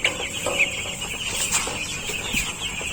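Young broiler chickens about a week old cluck and peep continuously on a farm while being weighed, a busy, steady flock chatter with no talk.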